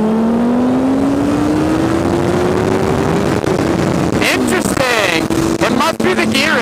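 A vehicle accelerates hard in second gear, its engine note climbing steadily in pitch, loud and close, then shifting and roaring on with wind noise and brief voices near the end.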